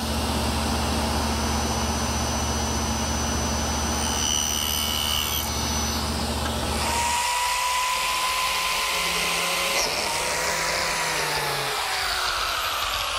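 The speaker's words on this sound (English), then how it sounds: "Now I've tipped my blade to 45 degrees, and using my miter gauge, I can complete the cut." A table saw with its blade tipped to 45 degrees cuts a cabinet piece while guided by a miter gauge, giving a loud steady whine that shifts in pitch as the blade meets the wood and then winds down.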